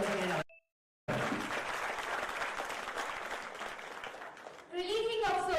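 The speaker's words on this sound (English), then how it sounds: "Your tireless efforts really recognized by this colossal crowd with huge round of applause." Conference crowd applauding the chairman at a large student accountancy gathering, broad sustained clapping that cuts off briefly after a short beep, then resumes before a voice speaks at the end.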